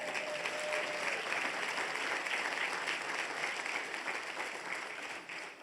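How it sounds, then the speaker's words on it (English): Sustained round of applause from a roomful of mostly women at a land acknowledgement gathering, even and moderately loud throughout, easing slightly toward the end. "let's give you ladies a big round of applause."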